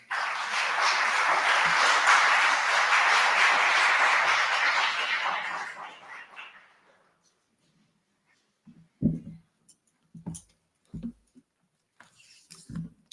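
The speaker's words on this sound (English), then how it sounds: "welcome her with a loud round of applause" An interfaith Iftar and Eid celebration audience gives a loud, sustained round of applause welcoming a speaker, dense clapping for about six seconds before fading out, followed by a few faint knocks and rustles.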